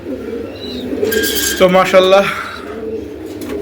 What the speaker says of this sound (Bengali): তো চলো আরেকটা কবুতর দেখাই নেক্সট